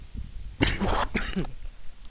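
Two close, harsh coughs in quick succession, following a quieter rasp at the start, with soft background noise between.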